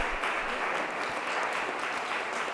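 Steady applause fills a press conference on gun violence reduction grants on Chicago's west side, a dense, even clatter of many hands sustained throughout.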